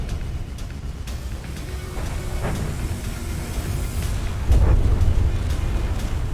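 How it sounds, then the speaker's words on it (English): Explosion from a gun pod during a naval battle in the video game From the Depths, a heavy low boom swelling out of constant rumbling battle noise with scattered sharp cracks. "Explosion from the gun pod,"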